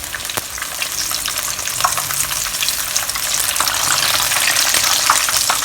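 Chicken deep frying in hot oil gives a dense, steady crackle and sizzle with scattered pops, close and loud, building slightly in intensity.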